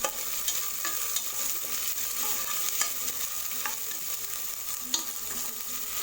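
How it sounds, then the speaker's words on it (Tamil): Two green chillies, slit lengthwise, sauté in hot oil for green peas rice, giving a steady, close crackling sizzle with occasional spoon taps and stirring scrapes throughout, no voices. "2 பச்சை மிளகா நீல வாக்கில் கட் பண்ணி வச்சுருக்கேன். அதை சேர்த்துட்டு வதக்கி விட்டுக்கலாம்."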